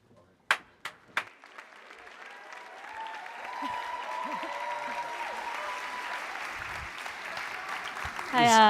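Audience applause welcoming speakers at a climate change event for creators, with a few distinct claps at first, then swelling into steady clapping from a room of listeners, rising louder at the very end.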